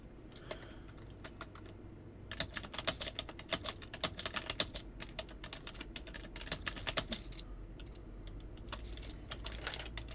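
Rapid typing on a computer keyboard during a game-development stream, a dense run of light plastic key clicks in uneven bursts, close and fairly quiet, with no voices.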